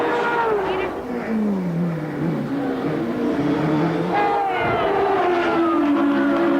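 IndyCar race car with a Chevrolet racing engine at the Long Beach Grand Prix street circuit, its engine note climbing and falling through repeated sweeping pitch changes over a steady, dense background wash.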